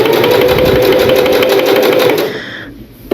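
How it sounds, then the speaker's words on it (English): A sewing machine stitches a T-shirt quilt seam in a loud, close, rapid whir that runs steadily, then winds down and stops, followed by a faint click. "So I'm just going to stitch along."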